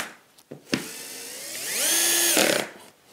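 A power driver spins up and whines steadily for about a second while driving a screw into a monitor lift mechanism, preceded by a few close clicks and taps of handling.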